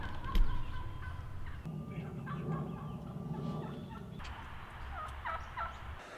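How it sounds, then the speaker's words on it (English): Wild turkey hens call in short, raspy yelping and gobbling bursts, fairly close and moderately loud, with gaps of quiet outdoor ambience between phrases. "I'll put videos of hens yelping in here"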